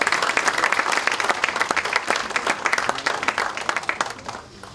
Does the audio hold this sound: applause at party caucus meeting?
yes